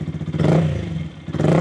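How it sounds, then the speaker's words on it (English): Yamaha R125 motorcycle engine revving in a brief blip, rising to a steady buzzing drone and dipping before picking up again, close and fairly loud. "Give it a little rev."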